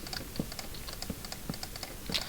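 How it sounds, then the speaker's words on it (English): Rapid fingers clicking on a computer keyboard, a steady run of light keystrokes with a few louder taps, close and quiet. "You can probably hear my fingers clicking away."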